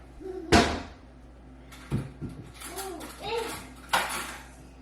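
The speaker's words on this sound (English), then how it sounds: "Alright, so I'm stirring it inside of the saucepan." Enchilada filling is stirred in a saucepan in a home kitchen, giving a few sharp metallic clanks and scrapes spaced apart, with a voice and adult chatter around them.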